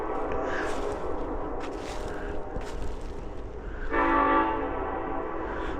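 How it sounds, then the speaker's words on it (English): A train rumbles past a tent campsite along the Tug Fork River near an old coal mine site, a steady low roar with a louder horn-like tone swelling near the end, no speech. "I hear a train a-coming."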